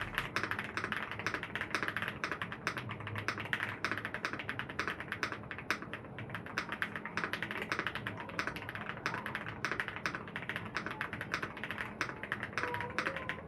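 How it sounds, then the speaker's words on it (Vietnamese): Continuous rapid clacking of a mechanical keyboard being typed on, with dense, even keystrokes close up and no talking. "Mình đã build xong một con phím cho Hoàng Anh rồi. Còn bây giờ thì các bạn nghe sau test ha"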